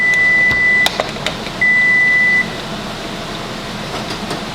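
Electric stove beeping as it switches off, giving two long steady tones with a short gap between them, loud and close over quiet kitchen background with a few faint clicks.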